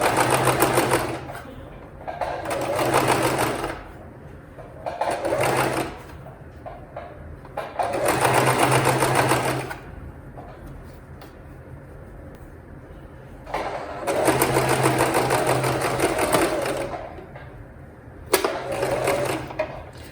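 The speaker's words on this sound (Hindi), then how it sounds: "तो चलिए अभी स्टिच करके दिखाती हूँ मैं आपको।" Sewing machine stitching sharara fabric runs in several bursts of steady mechanical whirring, each lasting a few seconds with short pauses between them, close and clear with no talking.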